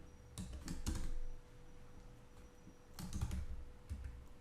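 Typing code on a computer keyboard: two short bursts of close, crisp key clicks with a quiet pause between them.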